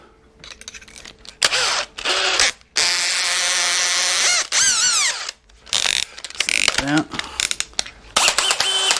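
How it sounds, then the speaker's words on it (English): A contractor-grade drill bores pilot holes into a wooden 2x4 stud for wall-mount lag screws, with short whirring bursts that rise and fall in pitch between pauses, plus ratcheting clicks and some nearby handling noise. "Got your contractor grade drill."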